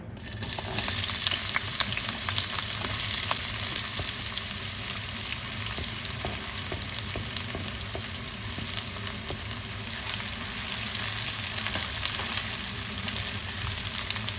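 Onion sizzles steadily in hot olive oil in a pan, a loud, continuous frying crackle with occasional stirring scrapes throughout.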